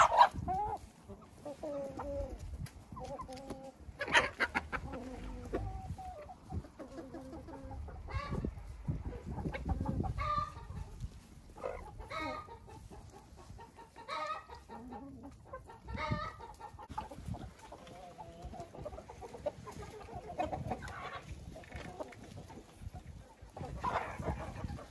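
Hens cluck and squawk in bursts, close by and scattered irregularly throughout, with occasional rustling and soft background noise.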